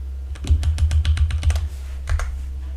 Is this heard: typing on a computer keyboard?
yes